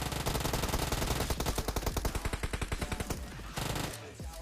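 Rapid automatic gunfire from a PUBG match, loud sustained bursts of machine-gun shots in quick rhythm for about three seconds, followed by a short pause and a final burst.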